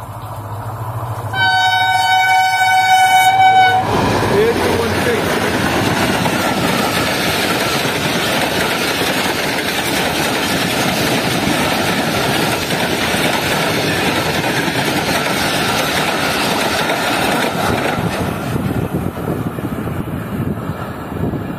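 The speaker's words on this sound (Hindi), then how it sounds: "तो ये है कराची के शेर HJ-MHRD लोकोमोटिव।" An express train hauled by an HJ-MHRD locomotive sounds a loud, sustained horn blast, then roars past close by, its wagons rumbling and clattering steadily for many seconds before the noise begins to ease.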